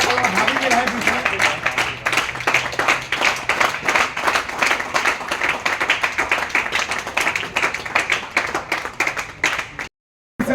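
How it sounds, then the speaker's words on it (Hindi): Sustained audience clapping at a cricket tournament's prize-giving ceremony, dense and steady for about ten seconds with an announcer's voice faintly mixed in, then cutting off abruptly. "आपकी तालियां बजती रहनी चाहिए"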